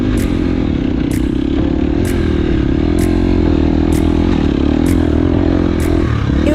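An enduro motorcycle at a sprint enduro race rides past a corner, its engine a loud, steady drone with light clattering over it and no voices.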